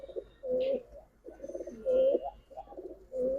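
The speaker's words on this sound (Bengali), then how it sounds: "প্রত্যেকটা কবুতর ভাই বেজি কবুতর দিয়ে করা ঠিক আছে" Giribaz pigeons coo close by in a repeated rhythm, several soft throaty phrases following one another with short pauses between them and no talking.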